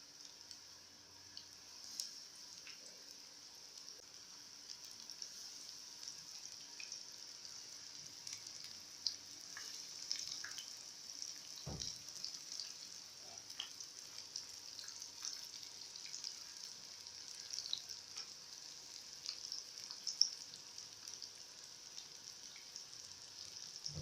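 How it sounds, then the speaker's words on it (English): Flour-coated onion rings fry in hot oil until golden brown, a soft steady sizzle with scattered small pops and ticks throughout, fairly quiet and close. "So you fry them until they are golden brown."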